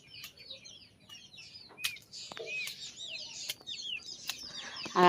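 Chickens in a rainy yard with moss-covered steps, giving scattered clucks and short calls among chirping birds and occasional wing flaps, moderately near with no talk.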